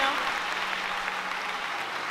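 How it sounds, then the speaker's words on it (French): Broad, steady crowd clapping fills a church service, dense and continuous throughout at moderate loudness, with a faint low hum underneath. "À nous applaudir le Seigneur matin."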